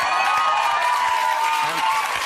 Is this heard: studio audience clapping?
yes